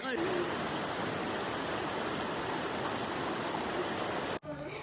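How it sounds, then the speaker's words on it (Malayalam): Kurinji waterfall running low outside the monsoon, a steady broadband rush of falling water close by, constant and loud, cutting off abruptly near the end. "അപ്പോൾ ഇതാണ് നമ്മുടെ കുറിഞ്ഞി വാട്ടർഫോൾസ്"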